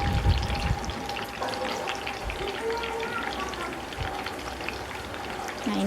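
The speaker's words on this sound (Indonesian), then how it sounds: "Nah, ini kita menggoreng tahu isinya menggunakan api yang" Stuffed tofu frying in oil over high heat makes a dense, steady crackle and sizzle throughout, with a faint tone and some background noise.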